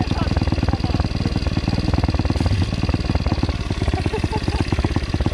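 A kick-started motorcycle engine idles close by with a steady, rapid thumping pulse that runs through the whole stretch, loud and unbroken, with no gas given.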